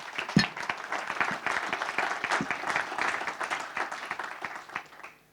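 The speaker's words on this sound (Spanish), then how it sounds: "Démosle un aplauso a..." Audience applause after a talk on liberal constitutions, one sharp nearby clap followed by sustained clapping from the room that fades out at the end.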